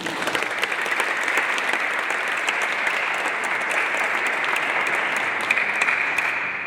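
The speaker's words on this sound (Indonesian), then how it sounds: "mari kita berikan tepuk tangan yang meriah" A crowd claps steadily and enthusiastically at a wedding, a dense, sustained round of applause that stays loud throughout.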